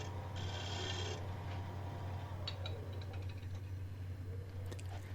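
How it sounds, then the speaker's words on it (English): Shear scraper cutting the outside of a cross-grain Black's Limba wooden bowl spinning on a lathe: a steady raspy scraping over the constant hum of the lathe motor, with a few faint ticks. "So now I'm taking my shear scraper and cleaning up the outside of the bowl."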